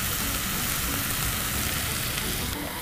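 Mustard greens for sarson saag stirred and mixed in a hot pan, a steady close sizzle and frying hiss with scraping stir noises, no voices.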